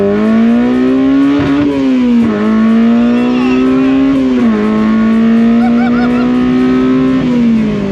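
A K-swapped 650 kg Mini Clubman engine revs hard and close, a loud, high-pitched motorbike-like wail rising and dipping through several quick blips and sustained pulls, with no talk.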